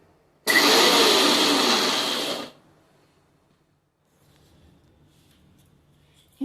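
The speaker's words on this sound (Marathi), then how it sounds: "मी आता एकदाच फक्त मिक्सरचं बटन ऑन ऑफ करणार आहे, म्हणजे पोह्यांचे पण अशी भरड राहील" A mixer grinder pulses once, coarsely grinding poha for dink laddoos: a loud close whirring burst of about two seconds that cuts off and winds down, then near silence with faint low hum.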